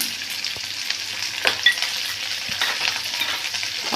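Green chillies, peanuts and asafoetida sizzle in hot oil in a pan while being stirred for onion thecha, a close, steady frying crackle with occasional scraping stirs and no voices.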